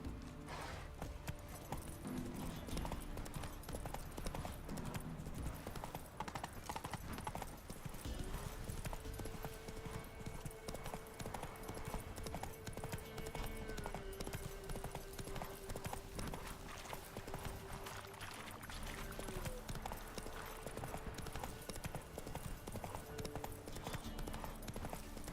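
Roach the horse galloping in the video game The Witcher 3, a steady stream of rapid hoofbeats under sustained background music throughout.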